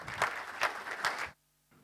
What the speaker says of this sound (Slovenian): Lepo prosim, za aplavzom pozdravimo gospoda Miha Kavaša.